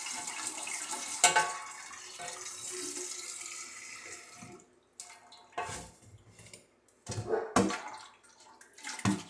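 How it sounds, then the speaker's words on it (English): Hot tap water runs into a pot as it is rinsed out after berry wine making, a broad splashing rush for about five seconds, then short separate bursts and trickles of water. "I'm going to take a little hot water and I'm going to rinse this pot out to get as much juices as I can out of it."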